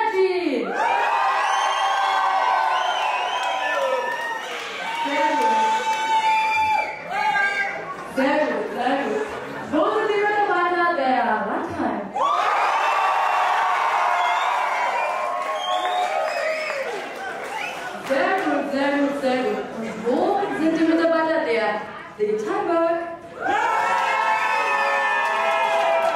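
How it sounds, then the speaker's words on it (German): A company event crowd of employees cheers, whoops and shouts loudly in repeated surging bursts, with a presenter talking between the waves of noise. "sobald ich euren Firmennamen aufrufe, schreit ihr so laut ihr könnt"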